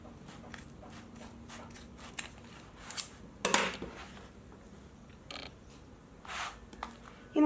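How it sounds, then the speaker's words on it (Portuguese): Scissors trim a small piece of fabric near a zipper while sewing a zippered organizer pouch, giving a few quiet, brief snips with a sharper cluster in the middle and no voices. "Vamos cortar um pedacinho e deixar um pedacinho."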